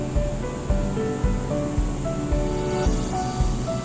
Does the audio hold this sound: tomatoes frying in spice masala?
yes